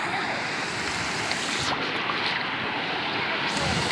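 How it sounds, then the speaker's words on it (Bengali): Floodwater rushes past in a flooded area, a loud, steady broadband roar that holds without pause, with wind buffeting the microphone. "এই জলের আওয়াজটা দেখতে পাচ্ছ, জলের আওয়াজ দেখলে বুঝতে পারছো তোমরা যে কী পরিমাণে জল যাচ্ছে।"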